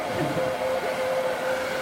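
A loud hair blow dryer roars steadily at a salon haircut, a constant airy rush with a thin whine held throughout the short stretch.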